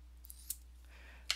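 Scissors trimming excess stamp mount during stamp carving, a few quiet crisp snips spaced apart in a near-silent room with a low steady hum.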